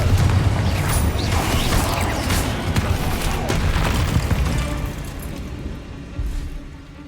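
Confringo fire spell explosions in the Hogwarts Legacy video game: loud, close booming blasts and crashing rumbles over continuous battle noise, fading somewhat toward the end with one last thud.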